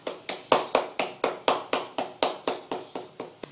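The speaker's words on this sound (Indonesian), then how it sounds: "Boleh tepuk tangan semuanya?" A class claps for group 1 at the front of the room, about fourteen crisp, evenly spaced claps in a steady rhythmic beat, fairly close and otherwise quiet.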